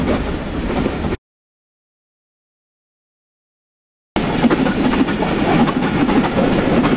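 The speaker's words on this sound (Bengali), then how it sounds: "এই যে ট্রেন যাচ্ছে স্টেশন" A steady rumble of a train rolling past Chuadanga railway station, interrupted by a few seconds of complete silence before the heavy rail noise returns.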